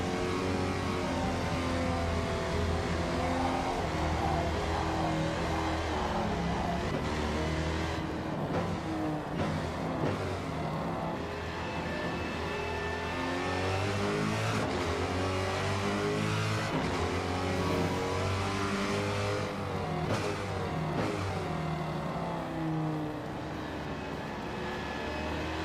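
A race car engine in a racing video game revs hard and climbs through gears, a loud continuous whine rising and dropping with shifts, with no talk over it.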